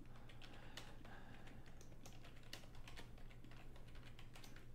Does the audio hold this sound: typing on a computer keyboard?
yes